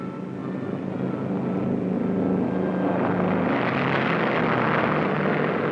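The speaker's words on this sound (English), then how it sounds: "While the B-29 with the X-1 ascends to altitude" A B-29 bomber carrying the X-1 rocket plane climbs in flight, its propeller engines producing a steady, unbroken roaring drone that holds at an even loudness throughout, with no voices.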